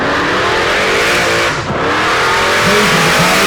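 A Chevrolet Nova drag race car accelerates hard at Tulsa Raceway Park, its loud engine roaring close and continuous, rising in pitch through the run with a brief dip midway.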